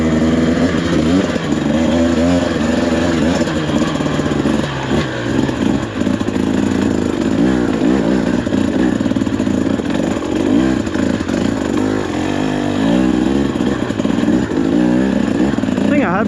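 A brand-new 2024 Husqvarna TE300 dirt bike engine drones loudly and continuously on a trail ride at Glass House Mountains, with steady revving and clattering throughout and some faint talk mixed in.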